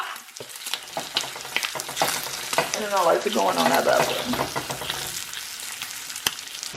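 Beef bacon sizzles and crackles steadily in a hot pan, with someone talking briefly over the frying.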